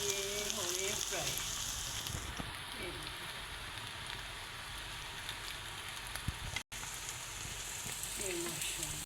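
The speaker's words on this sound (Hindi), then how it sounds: "माशाल्लाह से ये हो रहे हैं फ्राई।" Potato balls with cornflour frying in hot oil, a steady close hiss and crackle like rain that holds throughout, with a voice talking over it.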